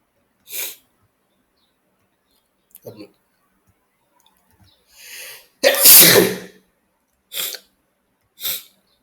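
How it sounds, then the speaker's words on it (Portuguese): A loud, explosive sneeze sounds right up close, surrounded by several short breaths, sniffs and clicks spaced out across a mostly quiet stretch. "Desculpa aí, gente, eu tive que espirrar."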